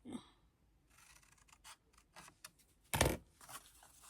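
Scissors cut paper tabs for a scrapbooking advent calendar in a series of soft, close snips that build to one louder crunching cut near the end, with no talking.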